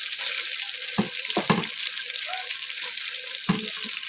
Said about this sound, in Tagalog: Lutuin muna natin ang sibuyas.